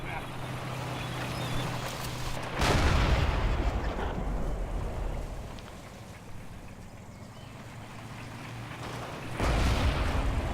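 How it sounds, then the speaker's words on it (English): Mortar rounds exploding in the WWII shooter Forgotten Hope 2, a heavy broadband blast at about three seconds and another near the end, booming over a rumbling battlefield with voices talking throughout. "Isn't that the Africa mortar?"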